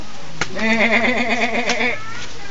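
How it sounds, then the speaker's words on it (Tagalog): A goat gives a single long, wavering bleat at close range, loud and trembling, against a quiet rural background. "Dami kambing nyo."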